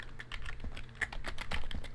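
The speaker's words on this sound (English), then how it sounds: "I'm just going to type in my email" Quick, close clicks of a computer keyboard fire off in a steady burst as an email address is typed, with no voice over the keys.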